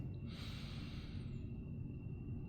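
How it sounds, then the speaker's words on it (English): A slow inhalation through the nose during a guided breathing meditation, a soft airy rush that swells then fades over a low steady background hum, close and unaccompanied by talk. "Breathing in the nose,"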